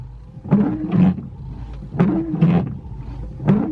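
Worn BMW 1 Series windscreen wiper blades drag across glass in a slow, regular rhythm, each pass a groaning, squealing scrape, repeating about every second and a half.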